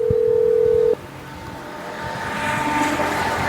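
A phone emits a loud steady tone for about a second during a call, then stops, leaving a low rumbling background that slowly grows louder.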